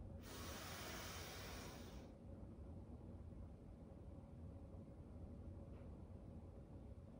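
Ujjayi yoga breath through the mouth during a flow practice: one strong, close airy hiss for about two seconds, then quiet room hum.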